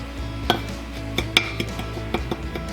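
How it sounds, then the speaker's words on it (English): A utensil stirs and scrapes a mix of brown sugar and spices for a barbecue rub in a bowl, giving scattered light clinks and taps at an uneven pace, close by with no talking. "Just go ahead and give everything a nice mix."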